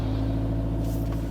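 A car engine held at about 1,500 to 2,000 revs at the clutch biting point, a steady mid-pitched hum with a brief airy hiss near the end.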